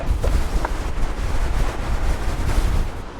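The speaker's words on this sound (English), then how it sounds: "It's still very windy now." Strong wind buffets the microphone on open fell land between Lords Seat and Broom Fell in a constant roaring rush, with low gusty rumble throughout.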